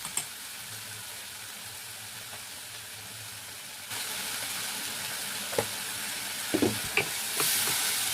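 Garlic paste frying in a pan, a steady broadband sizzle with a few stirring scrapes and clicks, growing slightly louder partway through, with no talking.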